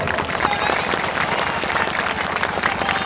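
A crowd at a political speech rally in Begusaray claps continuously, the thick, even wash of applause filling the whole moment without a break.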